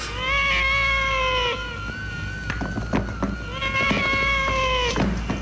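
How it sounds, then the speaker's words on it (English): A cat meows insistently in long, loud, drawn-out cries, several in a row with short pauses between, close and clear. "the cat screams are just relentless in this"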